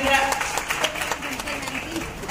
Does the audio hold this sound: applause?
yes